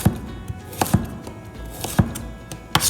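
A knife chops a turnip into small fry-shaped sticks on a cutting board, giving sharp, distinct knocks at an uneven pace, about eight cuts in under three seconds, close and clear with no talk.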